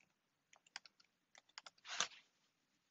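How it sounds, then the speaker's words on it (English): Values being typed on a computer keyboard in a quiet room: scattered soft keystrokes in two small bursts, then a brief louder rustling clack, all close and otherwise silent. "I'll type in some values that make my net income negative."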